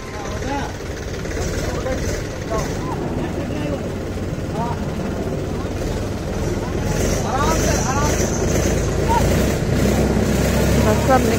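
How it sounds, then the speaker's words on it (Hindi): A tractor engine drones steadily at close range while pulling a Tata Safari badly stuck in a big muddy hole, the low rumble continuous throughout with voices talking over it. "फाइनली अब ट्रैक्टर आए इसको निकालने के"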